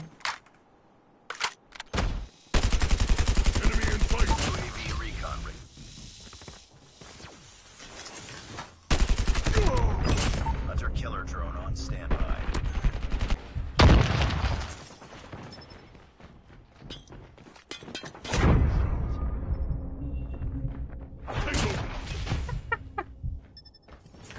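Bursts of automatic Hades gunfire in Call of Duty Mobile, several long loud sprays broken by short pauses and quieter stretches, with clicks and movement noise between volleys.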